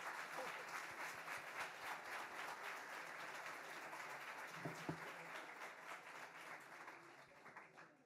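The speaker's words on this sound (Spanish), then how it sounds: "Aplausos para él." Quiet, fairly distant audience applause at a typography conference talk, a steady patter of many hands that tapers off toward the end.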